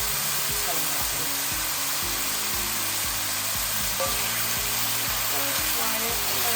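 Broccoli fries in a pan, a steady loud sizzle running throughout, with regular scraping and stirring knocks of a utensil against the pan.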